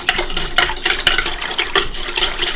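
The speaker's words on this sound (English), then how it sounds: "I'm going to whisk that a little bit just to break it up" Honey being whisked into water in a bowl for Riga bread dough, quick rhythmic scraping strokes of a whisk against the bowl, close and fairly loud.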